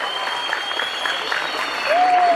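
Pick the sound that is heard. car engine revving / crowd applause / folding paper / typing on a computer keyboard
crowd applause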